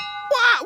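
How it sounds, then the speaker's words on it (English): A struck replica of the 1776 Independence Bell gives one bright metallic ring that sits at a steady pitch, then a second strike cuts across it with a louder clang, close by. "let's sign off with a ring-a-ding of the Independence Bell of 1776"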